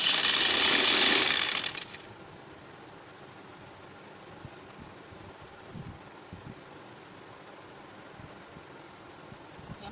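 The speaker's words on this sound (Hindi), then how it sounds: "यहाँ से सीधी सिलाई लगा लेंगे।" A sewing machine runs a straight seam along the margin line of a garment neck design. It whirs loudly and steadily for about two seconds, then stops, leaving faint handling noises in a quiet room.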